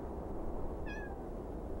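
A single short meow from a pet cat wanting food rises faintly over a constant low background hum, brief and moderately close, with no speech.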